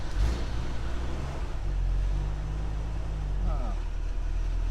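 Low, steady idle of a 1973 Jeep CJ-5 engine just after its first start, a rumbling drone with a few brief rises in revs, fairly close, with people talking in the background.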